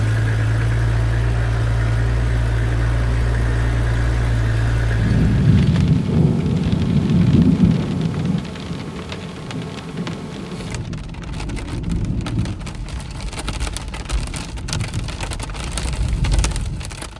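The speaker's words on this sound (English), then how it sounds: "The rain really picked up," Heavy rain pours steadily with low rumbles of thunder rolling in during a storm in Botswana, alongside a steady engine hum that fades partway through; no voices.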